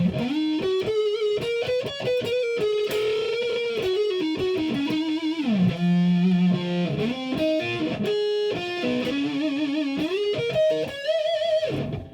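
A distorted electric guitar plays a continuous melodic lead through a Big Muff fuzz pedal with a raspy, buzzing fuzz tone, steady and fairly loud throughout.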